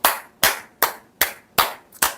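Six sharp, evenly spaced hand claps ring out close and loud at a slow, steady beat, with silence between each clap.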